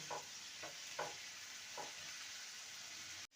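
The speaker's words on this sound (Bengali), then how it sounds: "সেটা দিয়ে দিলাম পেঁয়াজটাকে ভালো মতন কষিয়ে নেব" Onion paste sizzles in a pan with a soft steady frying hiss, while a spatula stirs it in a few brief evenly spaced strokes before a sudden cutoff at the end.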